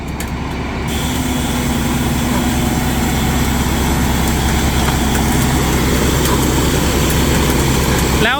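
A new rotary tiller tractor is driven with its engine running loud and close. The rumble stays steady and continuous throughout and starts up sharply near the beginning.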